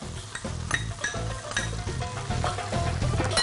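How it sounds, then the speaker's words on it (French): Onions and parsley sizzle in melted butter in a pan, a close, steady frying hiss with a few light clinks of a utensil against the pan. "Mon beurre a fondu. Je vais mettre par-dessus les oignons et le persil."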